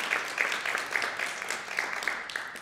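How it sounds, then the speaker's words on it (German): Audience at a youth prize award ceremony applauds in a short, moderately quiet burst of many hands clapping, steady with a few sharper individual claps standing out. "Einen großen Applaus bitte nochmal für Leon."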